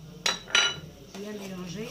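Spices going into a pot of Kabyle pasta sauce for handmade aftir oukessoul: two sharp metallic clinks of a utensil against the pot, close and bright, followed by a low steady hum.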